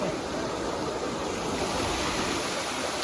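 Water rushes under strong pressure at Dhodani waterfall on a Konkan trekking route, making a steady, close, full roar with no pauses.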